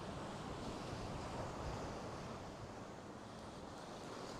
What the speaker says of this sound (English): the wind out here is just churning up the water